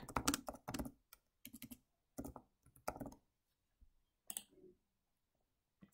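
Close keyboard typing for a Google search: clusters of crisp key clicks in quick irregular bursts separated by short pauses, with no one speaking.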